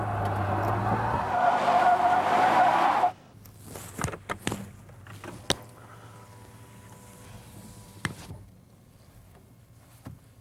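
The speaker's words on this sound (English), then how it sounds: "what it's like whenever you get up the hill in only two-wheel drive and then have to back down the hill" An off-road truck backs down a hill in two-wheel drive: a loud, straining engine with skidding tires for a few seconds, then quieter rolling with sharp scattered clicks and knocks from the vehicle.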